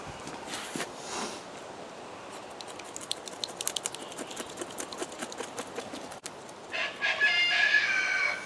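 A rooster crows in the background amid rustling and scraping sounds while bluegill and shellcracker fish are cleaned, with a brighter, louder burst near the end.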